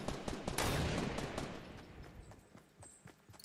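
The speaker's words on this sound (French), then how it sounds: "Et ça tire dans tous les sens" Rapid bursts of gunfire crackle in a Fortnite match, loud and dense at first with overlapping shots, then thinning to scattered, sharper reports toward the end.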